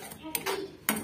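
Curd pachadi with okra being stirred in a pot, a spoon scraping and clinking against the metal in a few short, close strokes with brief pauses between.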